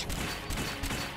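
Gunfire in the video game Eternal Sonata: a dense, loud volley of overlapping bursts with brief surges in a rapid, continuous barrage.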